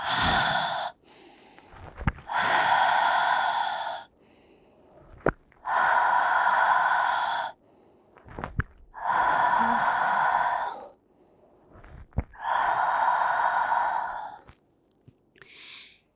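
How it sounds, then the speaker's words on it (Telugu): Slow, deep yoga breathing, in through the nose and out through the mouth, repeats in long airy rushes about every three seconds, close and loud, with short quiet gaps between breaths. "ముక్కు ద్వారా శ్వాస తీసుకోవాలి, నోటి ద్వారా శ్వాసను వదిలేయాలి"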